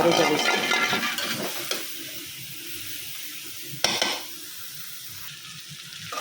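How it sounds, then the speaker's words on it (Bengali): Bitter gourd (karela) frying in a pan on a home stove: a steady sizzle and hiss with a couple of sharp clanks from stirring, close and moderately loud with no speech. "এই পাশে দিয়ে স্টার্ট করলাটা বাজিতে নিয়েছি"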